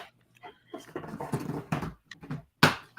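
A dog whimpers close by in a series of short, uneven whines and soft noises, ending with one sharper, louder cry.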